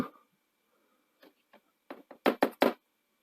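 A Sony WM-8000 tape recorder's grubby cassette door opening, heard as a short run of close, sharp plastic clicks and knocks that build to three louder snaps, with no talking.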